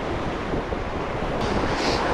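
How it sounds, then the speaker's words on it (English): Strong wind gusts roar across a rocky ocean shoreline where surf breaks into whitewash during lure fishing for tailor, a steady loud broadband rush with crashing waves underneath and no talking. "it's pretty windy out here"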